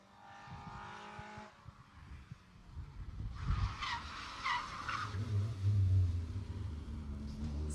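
Rally car locking its wheels and skidding on a stage at the Jersey Rally 2018, a rough scrub of tyres with loud rumbling engine noise rising toward the end, heard from nearby.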